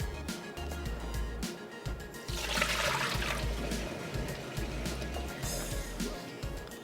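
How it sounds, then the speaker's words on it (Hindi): Cooking water being poured away from marinated kaleji tikka in a home kitchen, a steady splashing pour swelling in the middle and then draining off, over a constant low background hum. "पानी फेंक देते हैं इसका।"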